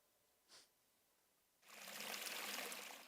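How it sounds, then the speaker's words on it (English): Water falls in a backyard water feature, starting midway as a steady, soft splashing hiss after a brief faint noise and near silence. "The sounds of the water falling in retired Army Colonel Lee Van Arsdale's backyard is his spot of solitude."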